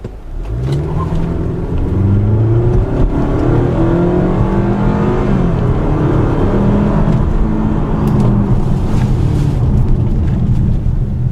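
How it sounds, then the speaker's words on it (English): A Hyundai Tucson SUV with 184 horsepower and a 6-speed automatic accelerates hard, its engine note climbing steadily and loud through the gears as a continuous drone with no voices. "The 184 horsepower combined with the 6-speed automatic results in adequate acceleration."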